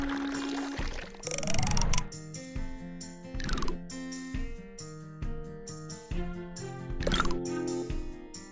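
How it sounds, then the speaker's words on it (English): Cartoonish pouring of batter in the Smurfs Bakery mobile game plays as bright, tonal sound effects with gurgling swells and chime-like accents, repeating in several bursts with no talk. "Just tilt to pour."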